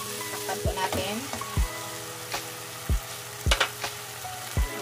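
Pork with bagoong alamang shrimp paste cooking in a pan, a constant frying sizzle punctuated by several dull knocks and scrapes of a spoon against the pan, close and unhurried, with no one speaking.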